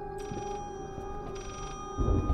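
A telephone rings in the horror video game Layers of Fear, two buzzing bursts of bell-like trills over a low humming backdrop, followed by a dull thump.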